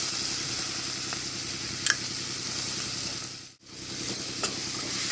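Potatoes fry with onions, curry leaves and garlic in a steady close sizzle, with scattered metallic clinks of stirring and a brief dip in the hiss partway through.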